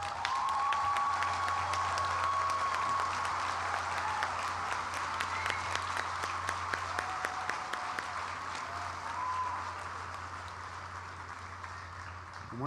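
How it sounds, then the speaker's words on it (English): Sustained applause from a commencement audience at a college graduation ceremony honoring graduates, steady crowd clapping throughout with a low hum underneath, fairly distant and even in level. "Let's give our honorees another round of applause."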